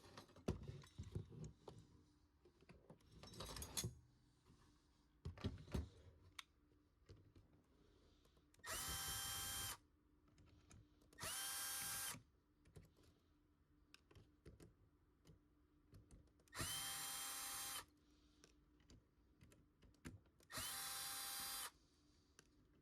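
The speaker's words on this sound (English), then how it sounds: "I'm gonna get the Dremel and I'm actually going to cut to here" A Dremel rotary tool cuts into a gel blaster part in four short, loud, high-pitched bursts, each a few seconds long, separated by quiet handling clicks and rustling.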